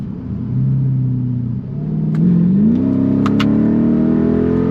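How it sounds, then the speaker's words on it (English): A Mercedes CLK55 AMG with the M113 engine accelerates smoothly after a breather hose repair, the engine note rising steadily in pitch through a gear change, heard from inside the car with no talk. "It accelerates pretty smooth, feels a little bit faster"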